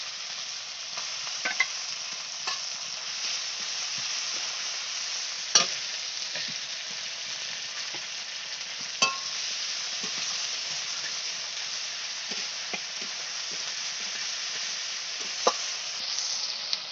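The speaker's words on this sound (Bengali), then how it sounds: "এখন দিয়ে দিচ্ছি শুকনো লঙ্কা আর একটু জিরে।" Dried red chillies and cumin fry with stone-ground spices in a village kitchen pan, a steady bright sizzle with occasional sharp pops and utensil scrapes scattered through, close and continuous without talk.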